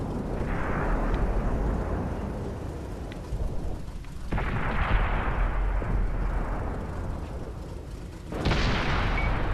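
Three heavy tank cannon shots from a Panzer III medium tank in World of Tanks, each a loud broadband boom with a long rumbling decay, spaced about four seconds apart with no talking.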